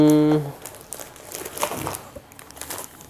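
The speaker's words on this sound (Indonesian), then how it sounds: "Kita lanjutkan unboxing kita yaitu sarung" Packaging of a new cotton-rayon sarong being unwrapped, a short electronic tone at the start, then close, crisp plastic crinkling and rustling in irregular bursts, without talk.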